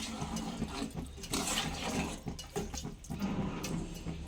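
Tamarind juice poured into a cooking pot for mettala pulusu, a steady liquid splash and trickle lasting several seconds at moderate, close level with no talking.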